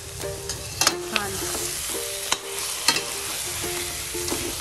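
Chicken curry masala sautéed in a pan with released oil, a steady crackling sizzle broken by several sharp spatula taps and scrapes against the metal.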